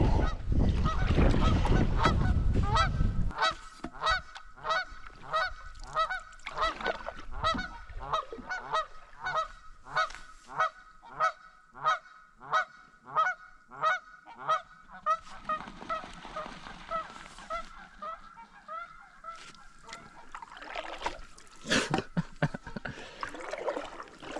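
Geese honk in a long rhythmic series of loud calls, nearby on a river during a snowy canoe trip, after an opening burst of rushing noise, with a few splashes near the end.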